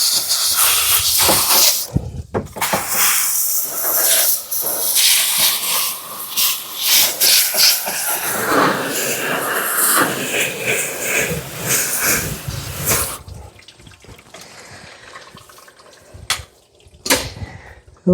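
Water spray rinsing a very dirty car engine bay, a loud hissing, splashing wash that surges and breaks off in bursts, with a quieter stretch near the end.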